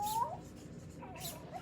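A person imitates a cat with a couple of drawn-out, rising meow sounds at moderate loudness, with a quiet background.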